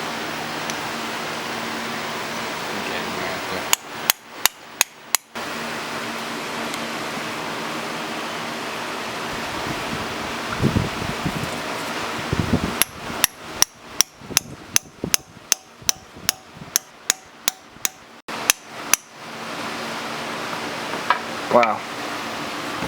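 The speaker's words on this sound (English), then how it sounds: "shove bread in there and then hammer it out with something that fits the center of it" Sharp metallic hammer blows knocking out a Nissan 350Z engine pilot bushing packed with bread, in two bursts, a quick cluster of about six strikes and later a steady series of roughly a dozen, over a constant background hiss.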